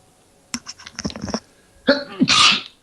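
A single loud, close human sneeze: a quick gasping intake and stuttering inhale, then a sharp explosive burst at the end.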